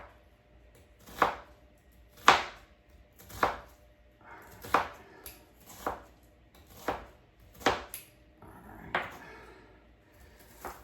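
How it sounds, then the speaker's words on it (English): A knife dices potatoes for a sausage potato skillet: about nine sharp, crisp chops land at a slow, steady pace roughly a second apart, close by, with quiet pauses between strikes. "let's go ahead and get these all diced up."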